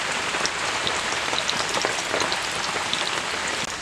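Potato spirals frying in hot white oil in a wok over a lit stove, a dense, steady crackling sizzle that fills the whole stretch without letting up, close and fairly loud, with no voices.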